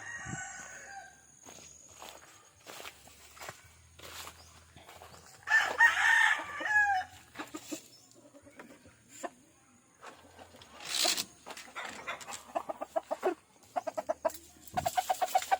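Several chickens cluck and crow nearby in bursts, with a rooster call standing out midway, amid soft rustling and scattered pecking sounds.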